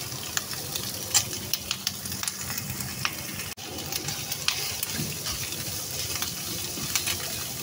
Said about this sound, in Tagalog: Ilagay natin dito ang ating sibuyas. Isabayan natin yung ahos, garlic.